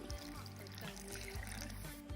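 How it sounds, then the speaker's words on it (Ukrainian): Salt dissolved in a glass of water is poured into a jar of tomatoes with garlic, making a faint, close liquid trickle with gurgling pulses and no talk. "3 столові ложки розчиняємо в стакані води і вливаємо в банку."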